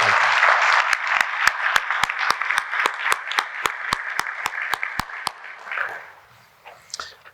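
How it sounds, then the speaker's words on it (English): Applause at an electric cooperative district meeting, a dense crowd clapping with evenly spaced sharp cracks over it, swelling then fading out around six seconds, followed by faint room noise. "let's please give him one more round of applause"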